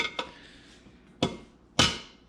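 Three sharp metallic hammer blows knocking off rivets, irregularly spaced, close and loud, each ringing briefly before fading.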